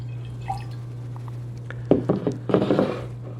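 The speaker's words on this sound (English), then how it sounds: "So let's do a hard pour on this guy." Barrel-aged imperial stout poured hard into a glass, a few faint drips followed by a short burst of splashing, gurgling liquid, close and quiet.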